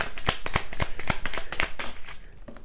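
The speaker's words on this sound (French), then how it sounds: "J'ai bien mélangé les cartes." Tarot cards being shuffled by hand at close range, a run of quick crisp riffles and slaps in an uneven rhythm, with no talking over them.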